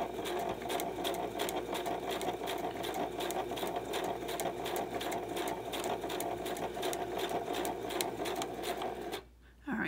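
A sewing machine stitches patchwork fabric pieces for a journal cover, running in a fast, steady, close whir for several seconds and then pausing briefly just before the end.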